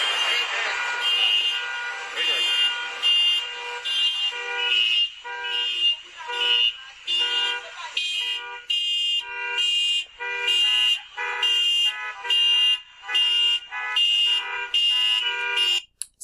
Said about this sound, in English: They're out there, they're honking their horns